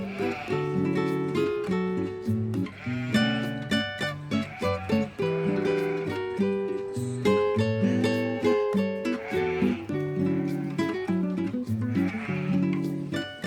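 Sheep at a competitive sheep show at the New Jersey Sheep & Fiber Festival bleat in dense, overlapping, wavering cries, a steady loud chorus with frequent short bursts throughout.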